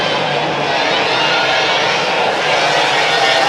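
A racing boat engine roars steadily through a turn during a Valleyfield F1 hydroplane qualifying heat, as a loud, dense, continuous broadband roar with no breaks.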